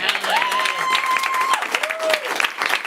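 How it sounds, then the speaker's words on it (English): An audience claps steadily for a contestant at a live event, with a sustained whistle tone rising over the applause partway through. "Natalie, clap for Natalie"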